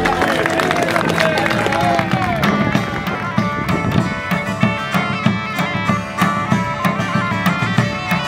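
Applause and cheering from a crowd of guests for a newly married couple at a medieval festival, steady clapping with voices mixed in and music playing underneath.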